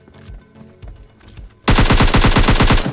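Rapid automatic gunfire in a shooter video game, a loud sustained burst of evenly spaced shots that starts abruptly after quieter sounds and continues to the end.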